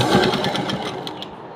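A sewing machine stitches a cotton blouse with a fast, steady mechanical chatter of repeating needle strokes, close and clear, before tapering off.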